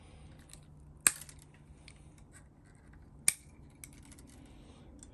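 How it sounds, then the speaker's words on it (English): Old, dirty strings on an Epiphone SG being cut, two sharp, crisp snips about two seconds apart against a quiet background, near and distinct. "I've loosened all the strings enough to where they can be cut. So I'm going to go ahead and cut those."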